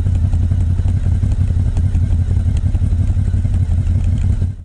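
A motorcycle engine runs steadily and loudly throughout, a deep, rumbling exhaust note with a rapid pulsing rhythm, close by and alone.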